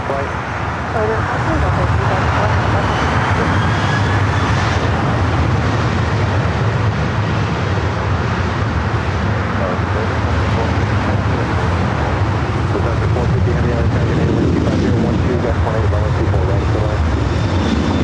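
A Southwest Boeing 737-800 bound for Albuquerque roars at LAX with a loud, continuous, close engine noise that holds steady throughout and drowns out any other sound.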